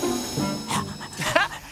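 A cartoon dog gives a few quick, high yips and whimpers mixed in with animated speech and music.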